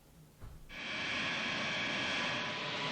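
Boeing 747 jumbo jet engines roar in a steady, loud, broad wash that starts abruptly after a brief quiet moment and holds constant to the end, with no voices.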